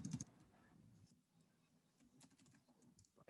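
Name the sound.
typing a command on a computer keyboard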